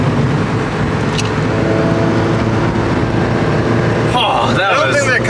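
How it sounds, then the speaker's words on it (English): A Porsche engine hums steadily under a car's cabin noise, with a brief rev as it downshifts near the end, while people talk over it. "Do a little downshifting."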